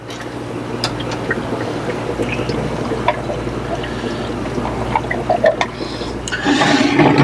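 Aerated brine shrimp hatchery cones bubble with a steady watery hiss and scattered small pops, growing louder near the end.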